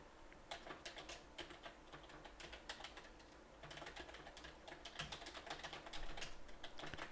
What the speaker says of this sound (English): Look at me furiously typing away.